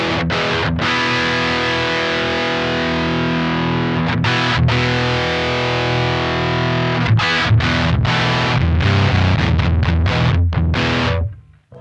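A heavily distorted Synergy Amps clone of a Mesa Boogie Mark IIC+ amp with bass boosted on the post-EQ, a thick, boomy low end, chords ringing and strummed in bursts, loud and close, ending abruptly.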